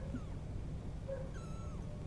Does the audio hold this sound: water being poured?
no